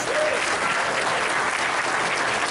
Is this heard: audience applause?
yes